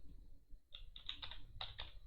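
Typing on a computer keyboard while naming a new desktop folder: short bursts of crisp key clicks in quick clusters after a brief pause, close and fairly quiet, no voices.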